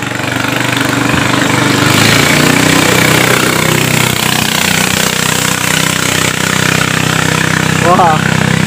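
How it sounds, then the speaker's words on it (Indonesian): Longtail ketinting boat engines racing on fresh water, a loud continuous buzzing engine drone lasting throughout, with some talk mixed in. "balap ketinting mantap sangat laju seperti kilat"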